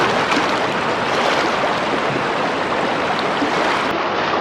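River water flowing at the Mahakumbh gathering in Prayagraj, a steady broadband rushing wash that stays constant and fills the whole stretch, with no voices.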